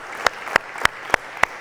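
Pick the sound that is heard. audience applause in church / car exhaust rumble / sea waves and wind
audience applause in church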